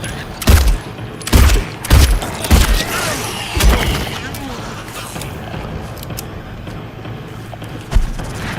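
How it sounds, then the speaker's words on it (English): Gunfire in the Silent Hill 2 Remake video game, five loud, heavy shots spaced roughly a second apart, each with a booming low punch and a ringing echo, followed by quieter creaks and one more distant thump. "Alright, I'm gonna shoot you good."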